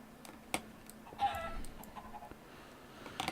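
A Minecraft chicken clucking softly, a few short faint clucks over quiet clicking of a keyboard and light background noise.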